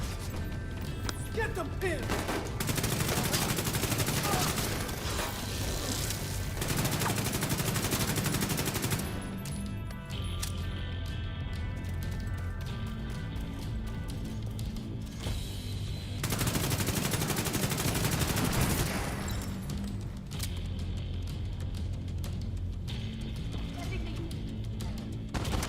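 The Carnage light machine gun in The Division 2 fires long sustained bursts of rapid, heavy shots, broken by brief pauses, while someone talks over the gunfire throughout.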